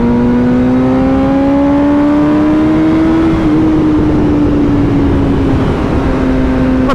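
A 2013 BMW HP4 motorcycle engine runs close by with a loud, steady droning tone whose pitch creeps slowly upward, dips briefly, then settles for the rest of the stretch. No one speaks.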